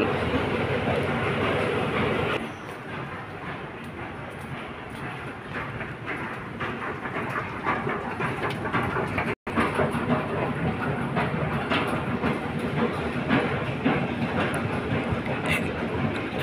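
A commuter train rides from Merdeka station toward Muzium Negara station in Kuala Lumpur, a steady interior rumble with rhythmic wheel clatter and a brief dip in level partway through, continuous for the whole stretch.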